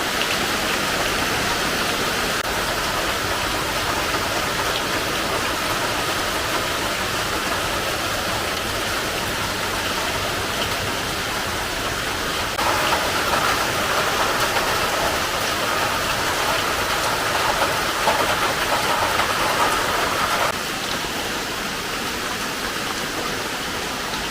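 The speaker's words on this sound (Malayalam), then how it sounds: "ഭയങ്കര കനത്തിലുള്ള മഴയാണല്ലോ" Heavy rain falls at night, a dense, loud and unbroken hiss of downpour that grows slightly stronger midway before easing back, with no voices.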